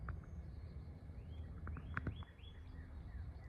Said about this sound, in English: I'm going to just see if we can hear these birds going. They're going wild.